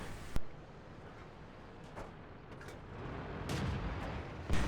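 Tank cannon fire in the World of Tanks game on the Airfield map: one sharp, loud shot, then a low rumble with faint distant bangs, and another heavy blast at the very end.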